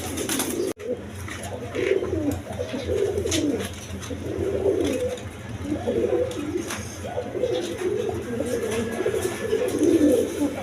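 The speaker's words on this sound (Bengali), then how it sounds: "এখানে এক পেয়ার কালদম কবুতর আছে" A pair of Kaldam pigeons at a pigeon-selling stall coo close by, their low, throaty calls rolling on almost without pause in soft repeated bursts, with no talk over them.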